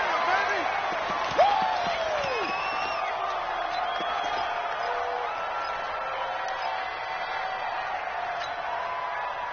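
A large stadium crowd at a playoff football game roars steadily before a big third down, with a whistle-like whoop early on and a continuous dense wash of cheering throughout.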